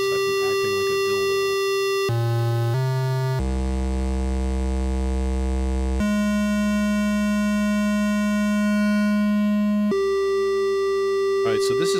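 A Eurorack Cloud Terrarium oscillator on a modular synth shifting through buzzy harmonic tones before settling into a steady, pure sine tone that holds for several seconds, loud and alone.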